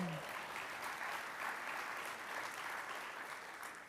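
An audience at a city's State of the City address breaks into sustained applause, a dense, even wash of clapping from a large crowd, heard from a distance and fairly faint.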